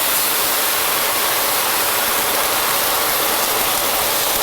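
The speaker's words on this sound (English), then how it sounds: "We're going to deglaze with some of that." Wine hitting a hot pan of clams, with Friulano poured in to deglaze, makes a loud, steady, dense sizzling hiss close by that carries through the whole stretch without pause.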